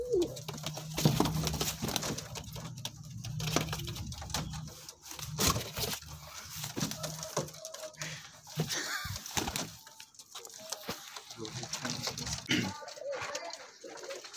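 A lot of golden pigeons on sale in Amritsar coo repeatedly close by in soft rolling calls, with rustling and a voice talking at times.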